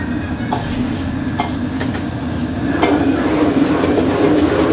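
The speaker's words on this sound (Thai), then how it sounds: "แล้วก็คั่วให้ไฟลุกกระทะแบบนี้แหละ" Steady roaring hiss of a hot wok with intermittent metallic scrapes and clanks as beef tenderloin is tossed and stirred over a strong flame that flares up.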